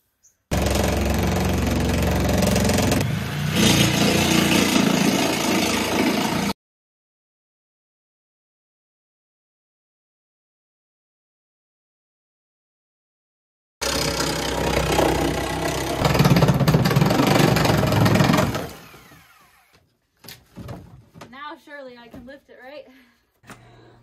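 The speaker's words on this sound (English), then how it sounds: "Do you guys know why it's called a sawzall? Because it saws all, even broken down hot tubs" A reciprocating saw tears through a broken-down hot tub in two loud, sustained buzzing cutting runs split by a long silence, then fades into quieter clatter and a voice.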